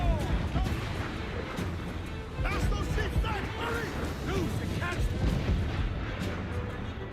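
Mortar rounds land in a video game battle as dense, continuous booming and crackling explosions that rumble throughout, with voices talking over the barrage.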